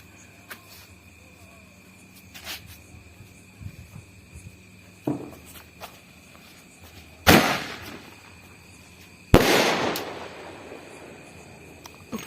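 Two Coronation firecrackers set off during New Year celebrations, each a sudden loud bang with a short crackling tail, about two seconds apart, against quiet outdoor ambience with small knocks and footsteps.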